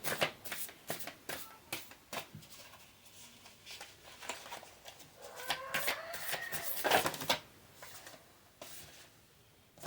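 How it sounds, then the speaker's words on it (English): Animal Spirit Oracle cards are shuffled in repeated quick riffles and slaps, close and fairly soft, with faint background sounds and no talk. "let's go ahead and pull some Animal Spirit Oracle cards for you"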